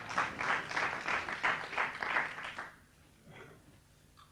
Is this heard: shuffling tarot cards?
no